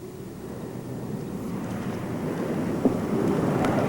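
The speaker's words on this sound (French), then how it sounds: "Là, il y a la pluie, le vent qui s'amène." Wind and rain sweep across an outdoor mini putt course during a 1991 competition. A low, rushing rumble builds steadily and grows louder, with no voices heard.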